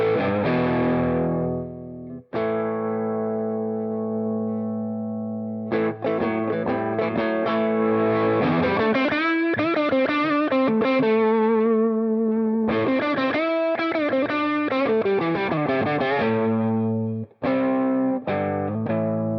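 An electric guitar played through the Tweed amp model of a NUX MG-101 multi-effects unit: sustained distorted chords and melodic runs with some modulation and reverb, loud and steady throughout, with brief pauses between phrases.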